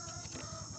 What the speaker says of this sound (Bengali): আনিশা মুরগিগুলো খেতে দে তো